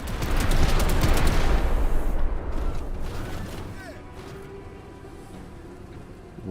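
Dense burst of gunfire and explosions from the sci-fi tactics video game Menace, loud at first and then fading into a lower mechanical rumble with faint creaks.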